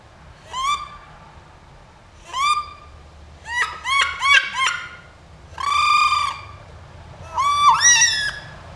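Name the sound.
wood duck call, single reed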